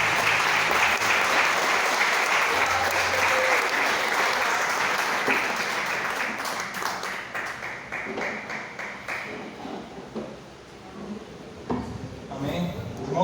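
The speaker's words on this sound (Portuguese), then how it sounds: "E dê uma linda salva de palmas ao nosso Deus." A church congregation applauds together at a worship service, dense sustained clapping that fills the room, holding steady for several seconds before thinning out toward the end.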